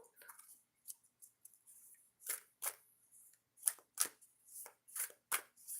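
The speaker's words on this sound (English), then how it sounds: "Shuffle this 3 times" Oracle cards being shuffled by hand, a run of soft papery riffles and slaps in irregular bursts, close and fairly quiet with no talking.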